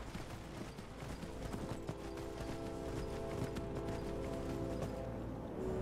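Horse hooves gallop along a road in Skyrim, a steady clip-clop rhythm running the whole time over continuous in-game music, with no voices.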